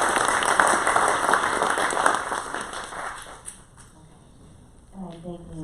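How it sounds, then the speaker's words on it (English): An audience at a post-film panel discussion applauds in a dense burst that gradually fades away. A voice begins speaking near the end. "So again, a round of applause for the first question."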